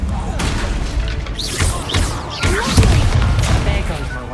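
Incendio fire spell cast in the Hogwarts Legacy video game, whooshing bursts and crackling impacts over a dense, continuous rumble of combat, with a voice shouting through it.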